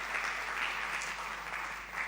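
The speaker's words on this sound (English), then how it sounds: "So you can clap for this." Audience applause at a Godrej Consumer Products investor meet, a brief, fairly quiet and even patter of many hands heard from some distance.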